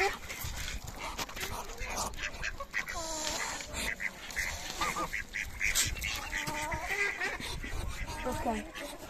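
A dog goes after a mallard duck in a farmyard henhouse, with agitated quacks and honking duck calls repeating throughout over scuffling and yelping, all loud and close, with some voices in the background.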